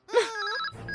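A telephone ringing in a home, one clear electronic ring tone with a warbling onset and sustained tone, close and loud, with no voices over it.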